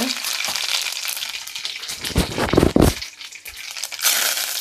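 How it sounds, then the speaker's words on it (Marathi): Cumin and asafoetida crackling in hot oil as a tempering for black pea usal, a close, bursting sizzle that swells into loud spitting flares midway and again near the end, with no talking. "ह्याच्यामध्ये आपल्याला आता फोडणीला टाकायचे जिरे,"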